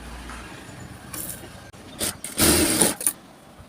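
A sewing machine stitches a folded two-and-a-half-inch straight strip of blouse fabric in short separate runs, the longest near the end, loud and close over a quiet room.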